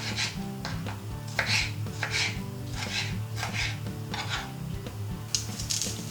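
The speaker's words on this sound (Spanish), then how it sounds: "picando los tomates. Los vamos a trocear" Kitchen knife cutting tomatoes into pieces on a board for vegan salmorejo: a dozen or so crisp, close cuts in an uneven rhythm, with a low hum underneath and no voices.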